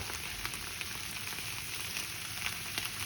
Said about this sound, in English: we give our Brussels a little bit of a sear